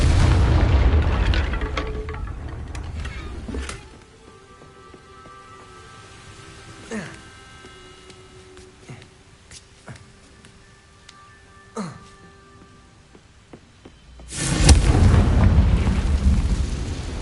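Confringo fire spell in Hogwarts Legacy bursting with a loud booming explosion, followed by a quieter stretch of faint pops and crackles, then another heavy rumbling blast near the end.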